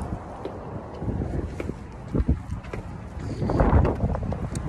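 Strong wind buffeting a handheld microphone outdoors, a rough, rumbling roar with gusty thumps and swells throughout, no voices.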